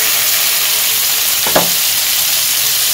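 Steady frying sizzle in a pan as butter melts for an egg paratha, a continuous hiss throughout with one brief clink around midway, no voices.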